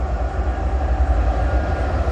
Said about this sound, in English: we got a CN westbound train coming down the line